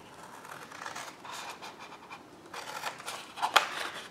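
Card being cut for a man-sized wash bag gift box, soft close scraping and snipping strokes in an irregular rhythm, with one sharper snip near the end.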